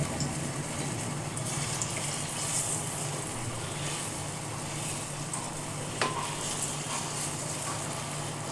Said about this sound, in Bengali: এক পিঠ ভাজা হয়ে গেলে আর এক পিঠ উল্টিয়ে দেবো